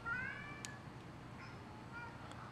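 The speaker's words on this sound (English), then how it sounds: "I think all the cats are hungry." A cat meows briefly and faintly near an electronics workbench with an oscilloscope, a single short call rising over a steady low room hum, with a few small clicks afterward.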